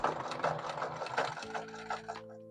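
A sewing machine stitches tracks onto a blonde 613 wig, its quiet rhythmic needle pulses giving way to a soft, steady motor hum.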